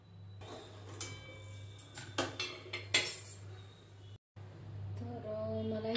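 A metal kadhai is handled for washing in a home kitchen, with several sharp metallic clinks and knocks over a low steady hum, followed by a short pause and a quieter tail.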